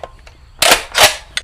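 A gold SCAR rifle fires a .308 round into a lead target, giving a sharp, loud blast close by, with a second loud crack and a brief echoing tail right after.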